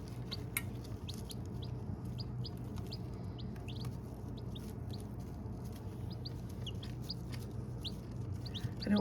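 Baby chicks in a brooder peep steadily in rapid, high, overlapping chirps over a low steady hum, fairly close and continuous.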